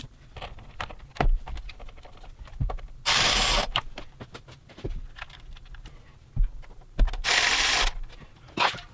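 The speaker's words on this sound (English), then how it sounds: "Let's go ahead and tighten up the bolts that hold down the intake tube to the valve cover." A ratchet tightening the intake tube bolts on a Lexus LX470 engine, with close, loud bursts of rapid clicking between scattered metallic clanks and handling noises.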